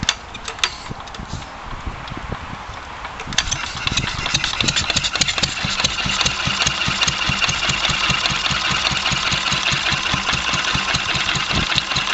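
A Wolseley WD stationary engine runs without cooling water after a governor adjustment, firing in a steady rapid thump that rises slightly in pace and then settles into an even idle, close and alone.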